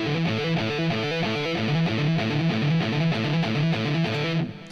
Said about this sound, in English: Palm muted notes would sound like this